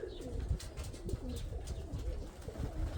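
Pigeons coo in low, soft, rolling calls that repeat steadily, close by, with a little background rustle and no talking.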